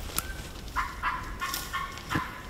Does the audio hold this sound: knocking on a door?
no